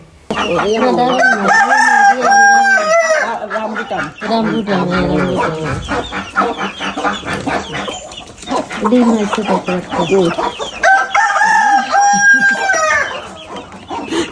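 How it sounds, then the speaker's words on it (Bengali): Chickens and ducks on a village homestead in rural Bangladesh cluck and call loudly at feeding time, with rooster-like crowing bursts near the start and end and busy overlapping fowl noises close by. "এখন হলো হাঁস মুরগিকে নাস্তা করাতে হবে"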